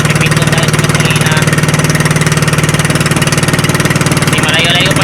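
A small boat's motor runs slowly at low throttle, a steady close-up chugging putter with an even rhythm that holds throughout.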